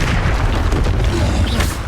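A deep, rumbling fire-spell blast from Hogwarts Legacy, a sustained loud boom with heavy low roar filling the whole moment.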